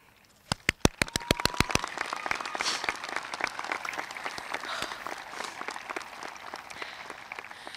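A few loud, distinct claps ring out first, then a graduation audience at a high school ceremony breaks into sustained clapping that rolls on steadily, dense and moderately loud, with no voices on top.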